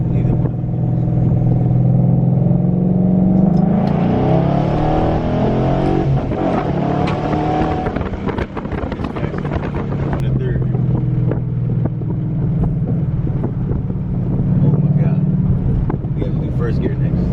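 A Ford Mustang 5.0 with performance modifications accelerates hard in second gear, its engine roaring and rising in pitch over steady wind noise, loud and close.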